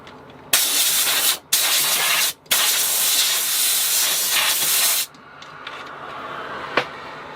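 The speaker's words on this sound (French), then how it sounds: "On met un petit coup de soufflette dessus." Compressed air from a blow gun hisses in loud bursts, starting and stopping twice before a long continuous blast, then cutting off to a quiet room with a faint click.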